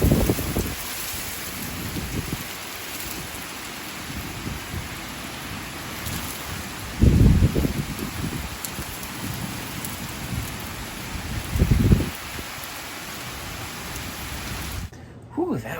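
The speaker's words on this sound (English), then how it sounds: "we are in the midst of a storm right now" Heavy rain falls steadily outdoors during a thunderstorm, a constant loud hiss broken by several deep rolling thunder rumbles, with someone talking over the downpour.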